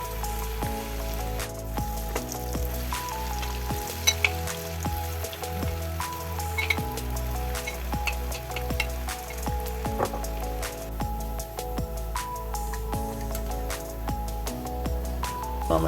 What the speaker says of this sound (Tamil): கொஞ்சம் கொஞ்சமாக போட்டு நம்ம ஃப்ரை பண்ணி எடுத்துக்கலாம்